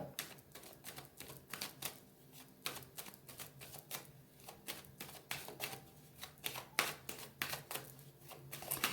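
A deck of oracle cards is cut and handled at close range, producing quiet, crisp irregular clicks and riffling snaps in a steady patter, faint overall and without talk.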